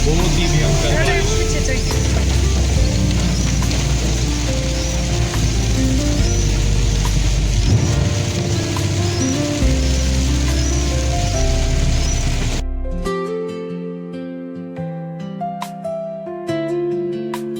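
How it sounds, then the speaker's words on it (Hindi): Heavy monsoon rain pours down in Dharamshala, a dense steady roar with a voice over it, then it abruptly gives way to a quieter passage with tonal sounds. "बहुत ही भयंकर बारिश।"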